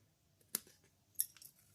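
Two quick snips of scissors cutting cardstock for a handmade Stampin' Up! bay window card, close and fairly quiet, separated by about half a second.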